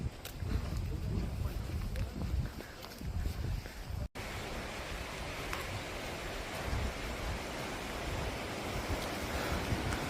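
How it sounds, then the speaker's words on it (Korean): Rushing water near a waterfall on Seoraksan after rain makes a steady, dense roar mixed with wind buffeting the microphone, briefly cut off partway through, with voices faintly present. "와 물소리 장난 아니다"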